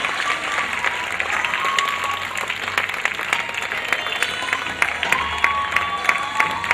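Applause with scattered cheers greets the students after a senior school play in Karachi, a full crowd clapping steadily, sharp individual claps standing out near the front.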